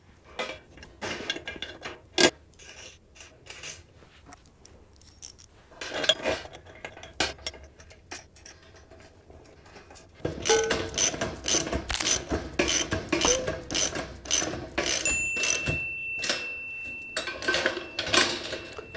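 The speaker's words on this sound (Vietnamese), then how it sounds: "Bây giờ mình bỏ mấy cái vít vào." Metal screws being put in and tightened on a car camping tray, a long run of close clicking, ratcheting and clinking metal, sparse at first and busier in the second half, no talk.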